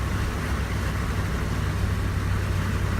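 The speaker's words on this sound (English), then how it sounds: "we got an airboat up ahead, and this guy's getting ready to launch" A rescue airboat idles while getting ready to launch, its engine a steady, dense low rumble holding at a constant level throughout, with no voices over it.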